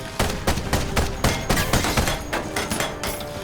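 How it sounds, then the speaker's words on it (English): Ironcast video game mech firing a rapid volley of shots in overdrive, a loud burst of repeated gunfire blasts with thuds, evenly spaced and continuous throughout, no talking. "So let's shoot its drive with the overdrive."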